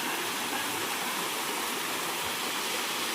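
Water from an electric irrigation pump motor gushes into a bunded field, a loud, continuous rushing roar with no pauses.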